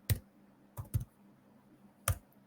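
A handful of isolated keystrokes on a computer keyboard, two close together and one more after a pause, fairly quiet and close against a faint room hum.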